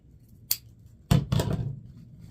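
Scissors snip the ends of 21-inch wreath mesh, one quick cut followed by a louder double snip, close and crisp in a quiet room.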